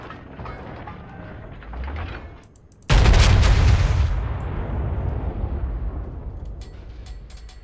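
Main battery salvo from the North Carolina BB-55 battleship in World of Warships, preceded by low engine rumble, then one sharp, thunderous blast that rumbles away over several seconds.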